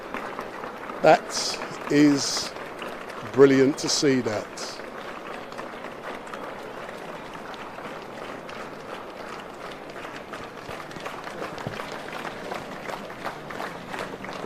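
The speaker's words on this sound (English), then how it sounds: "Look at her clapping." Crowd clapping for the London Fire Brigade near Grenfell Tower, steady scattered applause from many people in the open street, with someone talking over it early on.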